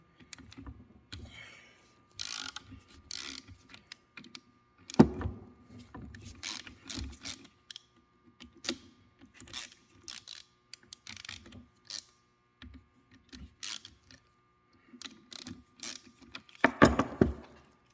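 A ratchet with a 6-point socket works loose tight differential bolts on a Mk2 Toyota Celica Supra, giving sparse, quiet clicks and clunks in irregular bursts with long quiet gaps, up close.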